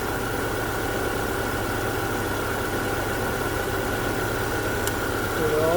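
A 2010-2014 Subaru Outback engine idles just after an alternator replacement. The hum is a steady, even, moderately loud rumble with a faint whine, continuous throughout and without talking.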